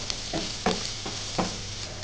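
Onion rice mixture with turmeric powder and chili flakes stirred in a pan, a few soft scraping strokes over a faint steady sizzle, close and quiet.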